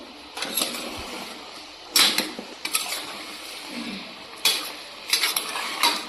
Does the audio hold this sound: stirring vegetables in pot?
yes